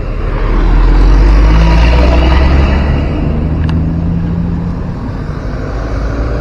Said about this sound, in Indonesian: Macet parah ini teman.